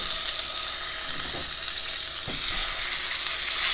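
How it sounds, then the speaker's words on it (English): Lamb shanks searing in olive oil, a loud, continuous close-up sizzle with a couple of brief scraping knocks as the meat settles in the pan, and no speech. "And then you want to place your shanks in the oil."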